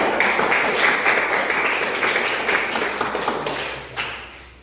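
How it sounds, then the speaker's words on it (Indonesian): A classroom audience applauds the discussion groups with a dense patter of hand claps that starts loud and close, then slowly thins and fades over a few seconds. "Untuk itu kita tepuk tangan untuk bersama"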